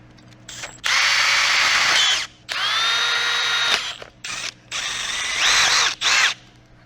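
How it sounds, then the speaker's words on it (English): A power drill boring out a go-kart clutch part whines in three long bursts and a couple of brief blips, loud and close, with short pauses between runs. "so we're just gonna drill it out and hopefully it's the right size."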